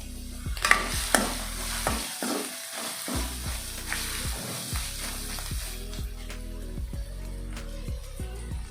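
Sliced onion rings stir-fry in a pan for vegetable fried rice: a continuous sizzle broken by repeated scraping strokes and clanks of a spatula, with a brief lull early on, and no talking.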